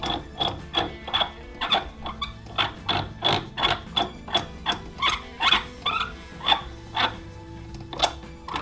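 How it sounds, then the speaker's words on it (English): A ratchet tightens an oil catch can fitting on a car intake with a steady run of close, crisp clicking strokes, about two per second, heard alone with no talking. "very, very easy to screw this on"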